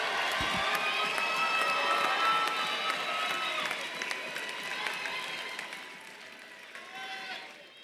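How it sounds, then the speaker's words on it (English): A commencement crowd at VCU School of Business gives a sustained, dense round of applause with some cheering, the clapping loud at first and slowly thinning over several seconds. "give them a huge round of applause"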